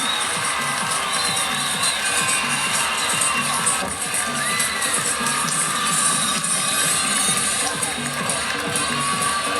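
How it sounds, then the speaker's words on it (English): Home crowd at a women's college gymnastics meet, Oregon State hosting Auburn, cheering loudly and continuously, with shouts and high-pitched yells across the whole arena and a commentator speaking over it. "You hear the cheering in the background from the home crowd."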